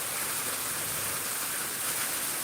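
Heavy rain pours in the eastern Miraj area, a continuous dense hiss with no breaks or voices throughout.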